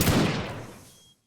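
Video game gunfire, a single loud burst of shots that rings out and decays over about a second.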